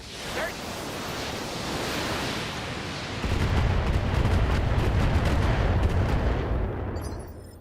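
Weapon fire in the BattleTech video game, a continuous roaring barrage of heavy shots that swells louder midway and holds as a dense, rumbling wash before tapering off.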